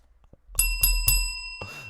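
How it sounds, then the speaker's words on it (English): A bright bell used as a sound effect rings three quick, evenly spaced dings, sharp and clear, after a brief quiet moment, then trails off into a faint rustle. "That's the unbullshit bell right there."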